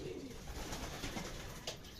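Soft coos of racing pigeons arriving come and go over a steady outdoor background, faint and somewhat distant.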